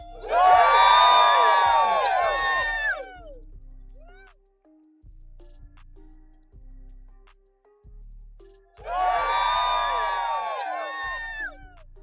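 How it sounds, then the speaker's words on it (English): Crowd at a golf event cheering and whooping for basketball star Caitlin Clark, two loud bursts of shouts and cheers separated by a quieter stretch of low background murmur. "The crowd reaction throughout the event was just pure enthusiasm. Cheers, photos being snapped, the whole 9 yards."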